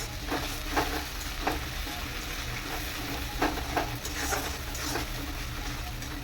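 Browned onions fry in a pan with spices, a steady moderate sizzle close by, broken by brief scraping stirs every second or so.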